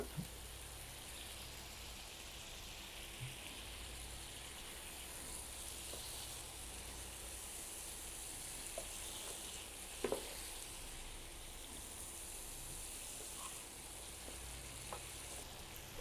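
Chicken pieces go into spiced masala in a pan and fry with a steady, soft sizzle that holds evenly throughout, with a few faint clinks now and then.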